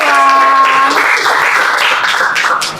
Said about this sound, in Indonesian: tepuk tangan dulu buat Natasha